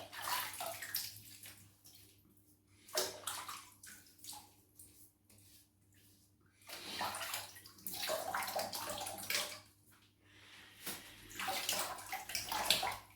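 Water runs and splashes in bursts from a tap into a basin while a face is wetted before a shave with a disposable razor, with quieter pauses between the bursts.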